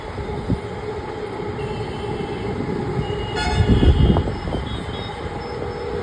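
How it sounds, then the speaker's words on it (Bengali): A metro train rolls past on a rainy, cloudy day, its rumble swelling to a peak midway and then easing off, with a brief metallic wheel squeal and no voices. "এই দিক দিয়ে মেট্রো আসছে"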